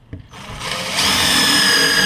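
A power drill countersinking a hole in wood: a short tap, then the motor spins up and holds a steady high whine with a gritty cutting texture.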